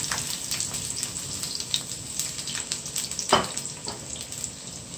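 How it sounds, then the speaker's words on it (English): Onion and scallion sizzle and crackle steadily in hot oil, a close, continuous frying hiss with small pops throughout. "put the scallion, the onion in"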